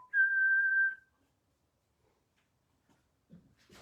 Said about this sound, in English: You better be careful with your whistle in there.